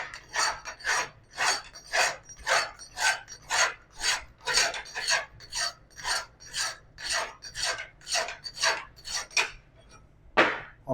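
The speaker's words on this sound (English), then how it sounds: "I'm going to take first this half round bastard file. I have a little bit of a burr on the inside of my pipe." A half round bastard file rasps out a burr inside a steel pipe being prepped for welding, about twenty even back-and-forth strokes in a steady rhythm, close and loud, with a metallic clank at the end.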